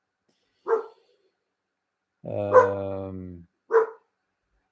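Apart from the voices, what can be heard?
dog barking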